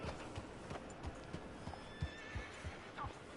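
Horse hooves clip-clopping in the game Red Dead Redemption, a steady rhythm of soft mid-distance hoofbeats with a whinny near the end, heard over faint ambient background.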